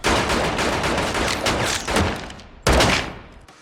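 Dense bursts of rapid gunfire in a Fargo TV episode crackle continuously, loud and close, with a sharp fresh volley near the end before trailing off.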